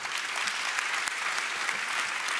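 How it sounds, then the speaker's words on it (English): Steady, dense applause from MBA and EMBA graduates at a 2019 graduation ceremony, a continuous wash of many hands clapping at even loudness throughout. "give yourselves a big round of applause"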